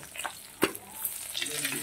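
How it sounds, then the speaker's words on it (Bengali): Small rohu fingerlings crackle and sizzle in hot mustard oil in a wok, a soft continuous fry with a few sharper pops and spatters, fairly quiet and close. "কড়াইয়ে সর্ষের তেল নিয়েছি, তেলটা গরম হয়ে গেছে। এবারে মাছগুলো ভেজে নেব।"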